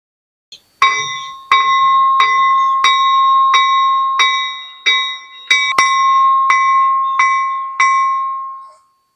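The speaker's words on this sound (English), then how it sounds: "you can even ring the locomotive's bells well" A loud locomotive bell clangs in a steady rhythm, about a dozen evenly spaced strikes whose ringing tones overlap and sustain, then fade out, at an outdoor park display.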